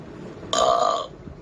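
A cartoon crow deliberately lets out a single loud, drawn-out burp lasting about half a second, close and alone with no talk over it.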